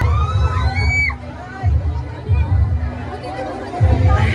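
Crowd noise at a summer festival: children and people shouting and chattering together in bursts of excited calls and whoops, fairly close, with talk mixed through the din.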